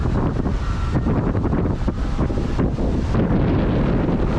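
Steady, roaring wind buffets the microphone on Playa Blanca beach in Livingston, Guatemala, a continuous broadband rush with faint surf-like wash beneath, loud and unbroken throughout.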